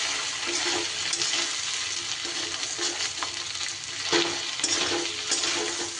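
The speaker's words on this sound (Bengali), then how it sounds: "মাছের তেলের অংশটাও খুব সুন্দর করে ভাজা হয়ে গেলে" Fish fat and oil pieces fry in a pan for a Bengali chorchori, giving a loud, steady, close sizzle that holds without a break, with slight surges in intensity.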